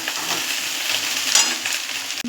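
Egg and soya chunk mixture with sauce being stirred in a hot pan, a loud constant sizzle with brisk scraping of the spatula and one sharper scrape near the end.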